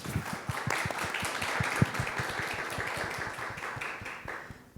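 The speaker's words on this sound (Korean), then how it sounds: "다시 한번 오늘 귀한 대화 나눠주신 두 분께 박수와 환영을 부탁드립니다" Clapping from a small audience at the close of a film festival talk session, a steady run of sharp claps at moderate distance that fades out near the end.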